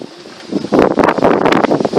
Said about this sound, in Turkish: Bugün aşırı rüzgar var arkadaşlar.